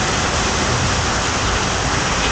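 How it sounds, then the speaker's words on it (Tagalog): Heavy rain pouring down with a dense, steady hiss that fills the whole stretch, loud and close with no break. "Hindi tayo makakagalaw nito kasi lakas ng ulan."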